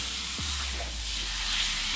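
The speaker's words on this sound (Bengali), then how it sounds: "এবার এক হাতা করে নিয়ে আমি এই তাওয়ার মধ্যে দিয়ে দিচ্ছি।" A ladle of thick rice batter for chakli pitha goes onto a hot tawa, giving a close, continuous hissing sizzle that stays even and loud, with no one talking.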